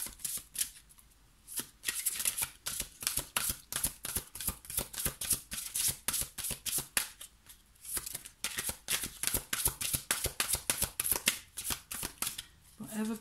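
A deck of oracle cards being shuffled: a long, steady run of rapid riffling and flicking, close and crisp, pausing briefly near the start and again near the end.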